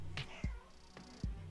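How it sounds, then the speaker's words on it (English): A pet cat meows a few short times indoors, two or three brief, fairly faint calls with soft thumps between them in a quiet room. "I don't know if you can hear Toxin meowing"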